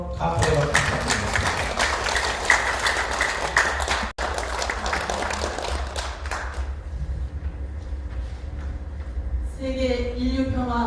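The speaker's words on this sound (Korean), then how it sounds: "여러분 다시 한번 감사의 박수 부탁드립니다" A large audience applauds at a Korean March 1st Independence Movement commemoration rally, steady dense clapping filling the hall for several seconds before fading into quieter room noise and the start of a speaker's voice.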